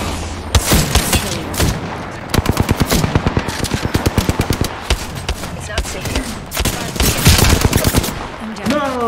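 Rapid automatic gunfire in the battle royale game Apex Legends: loud, close bursts of evenly spaced shots with scattered single cracks and impacts, while a player talks over the shooting.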